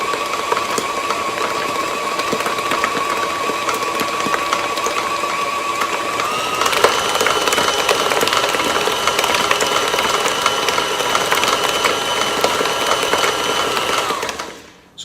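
An electric mixer whirs steadily as it beats batter with the last of the sugar, a close continuous motor drone that shifts up in speed partway through and cuts off at the end.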